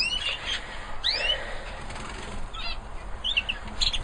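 Canaries in an indoor aviary flutter and flap their wings in a bid to escape as a door opens, with bursts of wingbeats and a few bright chirps over a steady background hum.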